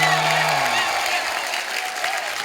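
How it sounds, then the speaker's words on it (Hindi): Studio audience applause on a comedy talk show, a steady wash of many hands clapping with a low tone fading at the start. "जोरदार तालियां"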